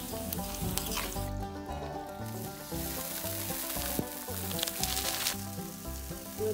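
Green chilies and onions fry in a pan, giving a steady, close sizzle with crackly bursts over a continuous hiss, accompanied by background music.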